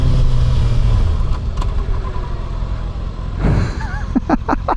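Kawasaki ZX6R 636 sport motorcycle on the move, its engine a loud, continuous roar close to the rider with wind rush, dropping in pitch through a downshift, then a brief rising rev near the end.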